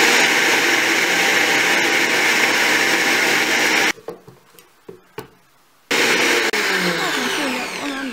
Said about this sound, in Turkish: yarısını blenderden un haline getireceğiz